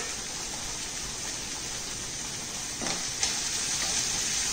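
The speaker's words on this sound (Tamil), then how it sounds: "இதை கொஞ்சம் நல்லா வதக்கி விட்டுட்டு" Finely chopped carrots and beans sauté lightly in oil for rava kichadi, giving a soft, steady sizzle that is faint and constant, with a small clatter near the end.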